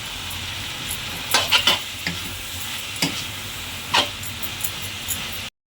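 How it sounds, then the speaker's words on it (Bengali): Onion, capsicum, boiled carrot and flat beans are stir-fried in a little oil for restaurant-style mixed chowmein: a steady close sizzle broken by several sharp scraping stirs of the spatula, with no talk. "পেঁয়াজ ক্যাপসিকাম গাজর বরপটি মোটামুটি হালকাভাবে একটু তেলের মধ্যে নাড়াচাড়া করলাম"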